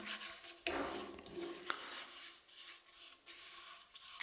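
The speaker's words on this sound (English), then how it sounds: "we're gonna spread it as thinly as we can" A cloth rubs microcrystalline wax thinly over a wood turning, a soft continuous rasping scrape close by with a few brief stronger strokes, no talk.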